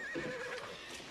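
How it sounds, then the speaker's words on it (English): A horse gives a short, close neigh, a quick rising and falling whinny with a faint clopping underneath, heard alone and fairly quietly. "Why would Wally want to give me his horse?"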